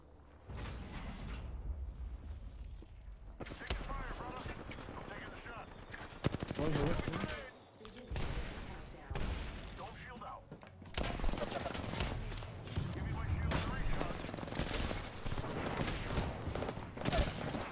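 Rapid Apex Legends gunfire rattles in bursts with loud single Peacekeeper shotgun blasts, mechanical clicks and whooshes, while voices talk intermittently over the action.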